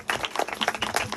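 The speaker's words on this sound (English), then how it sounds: "We have one final round of applause for all 6 of the groups today." An audience applauds six student groups at a Stand Up to Trash lunch-and-learn event, a short burst of dense, steady clapping.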